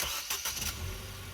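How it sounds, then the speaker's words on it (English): A 2014 Ford Fiesta ST engine starting, with a short cranking burst of uneven pulses before it catches and settles into a steady, low idle rumble close by. "The engine starting."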